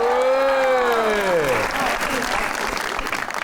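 Loud audience applause on a studio talk show set, with a voice exclaiming over the start before the clapping continues as a dense, steady wash.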